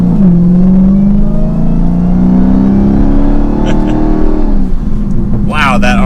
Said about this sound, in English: All right guys, so we are setting off now in the Redeye.